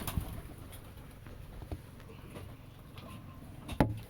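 Faint, low cooing of pigeons in a quiet space on a goat farm, with a brief flutter or thump near the end.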